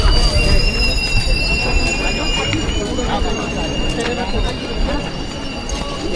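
A passenger train pulling out of Ratnagiri station rumbles steadily and loudly with rattling wheels and a high metallic whine, heard from onboard as people talk nearby.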